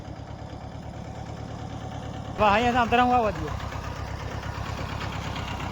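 A tractor engine idles steadily at close range beside a pond, a low continuous drone with a faint knocking pulse, while someone speaks briefly over it midway through.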